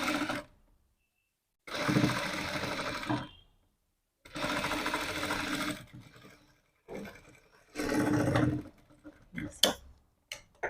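A sewing machine stitching cross straps on cloth, running in four separate bursts of rapid mechanical ticking, each lasting about a second and a half, with silent gaps between them while the fabric is repositioned.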